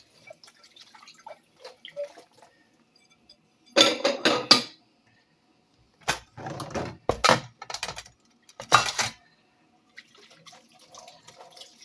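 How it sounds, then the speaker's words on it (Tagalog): Bursts of running water and clinking dishes come in three clusters, separated by quiet stretches with faint drips and small clatters. "At tapos na tayong maghugas ng pinggan"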